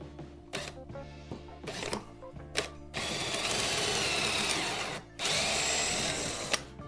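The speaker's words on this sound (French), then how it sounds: "Donc je fais mes deux trous." A drill bores pocket holes through wood held in a Kreg 720 Pro pocket-hole jig, with short clicks and handling noises first, then two long, loud whirring drilling passes separated by a brief pause.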